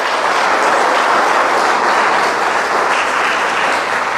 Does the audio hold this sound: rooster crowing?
no